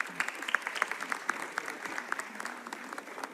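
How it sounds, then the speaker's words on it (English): A summit audience applauds as ambassadors join the stage, a steady, moderately distant patter of many hands clapping throughout, with no voices over it. "They like to be cheered with a round of applause as they come"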